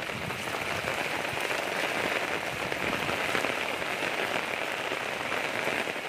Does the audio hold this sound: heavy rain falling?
yes